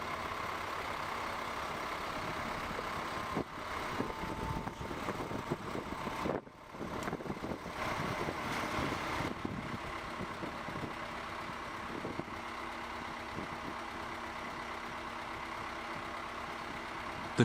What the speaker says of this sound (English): The Komatsu PC 200-8 is equipped with a powerful Komatsu D107E engine